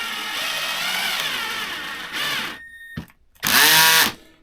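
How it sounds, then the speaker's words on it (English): A cordless drill drives a screw into wood with a steady whirring hum for over two seconds, stops, gives a brief burst, then a loud ratcheting clutch chatter near the end. "And you can hear the clutch engage"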